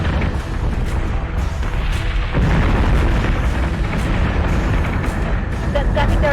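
Starship batteries fire and explosions boom in Battlestar Galactica Deadlock, as a continuous heavy rumble of blasts and deep booms swells louder around the midpoint, with sharper bursts and crackles scattered throughout.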